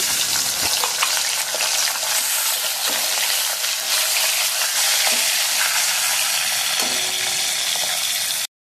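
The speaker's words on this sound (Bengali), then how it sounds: "আর এদিকে দেখো তেল গরম হয়ে গেছে, এখন মাছের মাথাগুলোকে ভেজে নেব।" Hilsa fish heads, rubbed with turmeric and salt, fry in hot oil with a loud, steady, close sizzle and crackle that runs unbroken through the whole stretch, with a few soft knocks from stirring.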